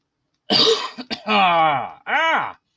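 A few harsh, voiced coughs in quick succession, close and loud, ending with a longer raspy burst.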